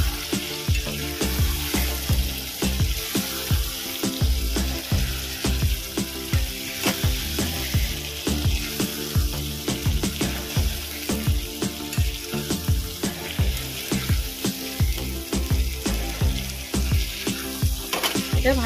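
Prawns sizzling steadily in hot oil in a pan for a Bengali prawn malai curry, with a spoon stirring and scraping in a repeated, fairly even rhythm, loud and close throughout with no voices.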